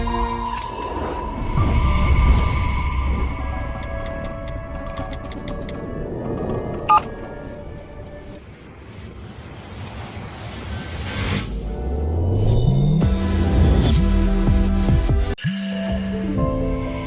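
Telephone dialing tones and beeping ring signals of a call that goes unanswered, sounding over a busy, dense background of music and ambience, with repeated electronic tones toward the end.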